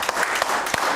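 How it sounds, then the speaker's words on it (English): A church congregation claps their hands at a Sunday service, a brief burst of scattered, fairly close claps with a few sharper individual hits standing out. "Everybody give the Lord a hand clap this morning."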